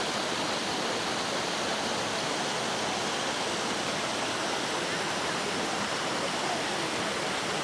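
Hot spring water spouts pour steadily at the Guci baths in Tegal. The broad, even rush of falling water fills the scene without a break.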